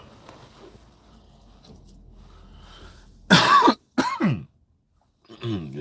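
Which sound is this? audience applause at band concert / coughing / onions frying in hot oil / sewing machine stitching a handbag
coughing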